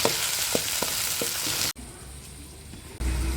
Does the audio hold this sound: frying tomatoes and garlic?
yes